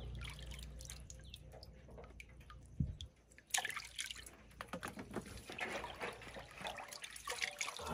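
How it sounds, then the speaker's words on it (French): Snails rinsed in clean water, with splashing, sloshing and dripping. It is quieter at first, then a sharp knock is followed by busier, louder churning water close by. "On les rince dans de l'eau propre pendant 35 secondes encore."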